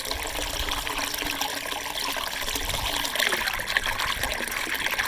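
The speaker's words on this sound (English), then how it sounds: "I'm still gonna run it through this Sawyer mini filter." Spring water trickling steadily through a Sawyer Mini filter at a camp, a continuous close splashing dribble with no talk.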